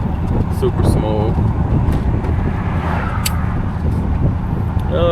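A 1970 Buick Electra 225 rolls along with its motor running, a steady low engine and road rumble with wind noise and a faint rattle.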